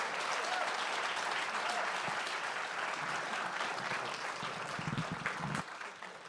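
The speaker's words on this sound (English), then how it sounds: "Let's give another round of applause for Austin Hinchey." An audience claps steadily for a speaker at a Goodwill-presented event, dense sustained applause that eases slightly near the end, with a faint voice briefly audible underneath.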